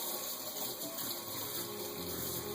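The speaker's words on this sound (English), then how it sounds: "So again, you want to wash it up nicely." Produce being washed under a running kitchen tap, a steady close rush of water with no voices.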